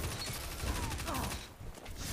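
Video game gunfire in an online shooter crackles in a short, dense burst of rapid shots, then briefly drops away before resuming faintly.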